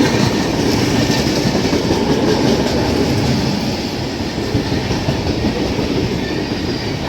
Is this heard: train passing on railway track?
yes